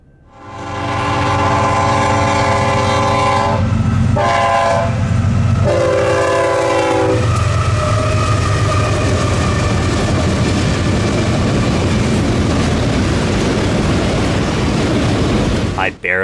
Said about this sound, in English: I barely made it to Brookline to catch this eastbound vehicle train moving at the maximum authorized speed led by BNSF 6837.